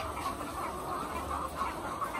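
Recovering poultry cluck softly and continuously at a farm, a low chorus of several chickens heard from nearby with no talk.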